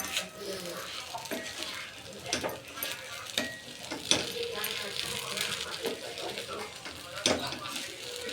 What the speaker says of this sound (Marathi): पाच मिनिटानंतर झाकण काढून आपण खिचडी हलवून घेऊ